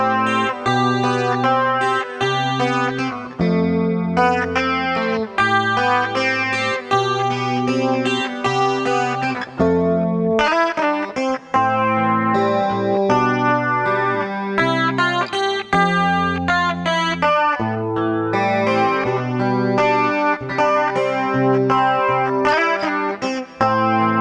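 Clean electric guitar played through an MXR Rockman X100 with chorus switched on, giving shimmering, heavily processed 1980s-style chords and picked notes that ring continuously with echo and no talking.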